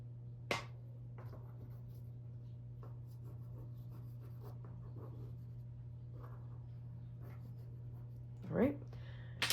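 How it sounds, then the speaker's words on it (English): A black colour pencil scratches across paper in soft, short, irregular strokes, quiet and close over a steady low hum. "let me just go in maybe with a black color pencil. Just add some more scratches."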